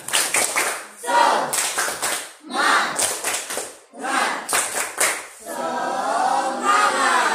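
A school class does a rhythmic spirit clap in a classroom, loud bursts of clapping in patterned groups, with children's voices calling along between and over the claps.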